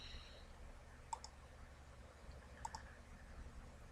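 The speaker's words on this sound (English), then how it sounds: "We're just going to go ahead and click save on all of them that pop up." Mouse clicks at a computer while saving dialog boxes in FRC LabVIEW software: a single click at about a second in, then a quick pair near the end, faint and close over a low steady hum.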